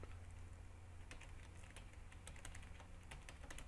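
Quiet, rapid keystrokes on a computer keyboard tap out a short word in a terminal, a light irregular patter over a steady background hum.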